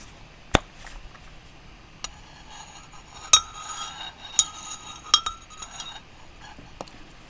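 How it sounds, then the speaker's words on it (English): A metal spoon stirring tea in a cup, producing sharp, bright clinks against the rim at irregular intervals, some in quick pairs, over quiet background. "Personally, I stir my tea kind of aggressively, so I'm trying to be chill."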